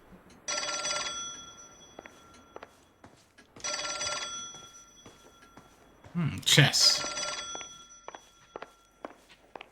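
An old-style telephone bell rings in the video game L.A. Noire, two long clear rings separated by a pause, followed by a thump and footsteps, with someone speaking briefly over it.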